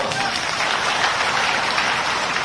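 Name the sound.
crowd applause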